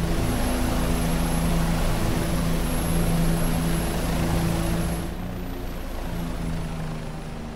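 Bell 407 helicopter in the X-Plane 11 flight simulator, a steady rotor and turbine drone with constant low thumping and a high whine, holding loud throughout before easing slightly near the end.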